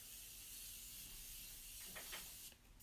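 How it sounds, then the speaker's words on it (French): Makeup setting spray is misted onto a face as a faint, airy hiss, with a few quick, soft bursts near the end in a quiet room. "Je vais juste mettre un petit coup de spray juste là"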